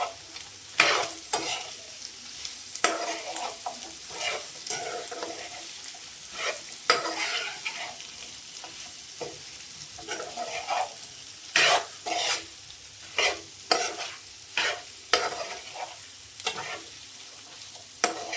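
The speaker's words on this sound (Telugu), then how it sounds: "ఇప్పుడు మంచిగా కలుపుకుందాం" Chicken fry being stirred in a pan, a sizzling bed broken by repeated scraping strokes of a spoon that come in quick uneven bursts, close and fairly loud.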